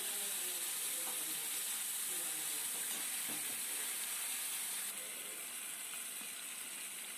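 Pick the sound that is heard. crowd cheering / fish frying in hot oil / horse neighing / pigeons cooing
fish frying in hot oil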